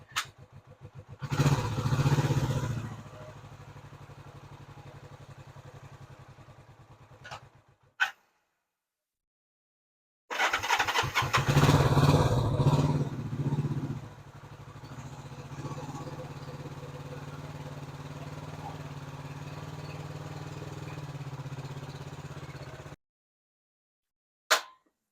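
A motorcycle engine idles steadily with a low, even thrum after an air filter refit, broken by a short gap of silence before the idle resumes and holds.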